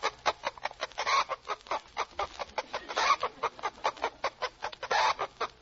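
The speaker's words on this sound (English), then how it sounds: "That would be the chickens, and they are crowing." Chickens cluck and crow as a farm sound effect for radio, a fast run of rhythmic, closely spaced clucks with a few longer crowing calls rising through it, loud and alone.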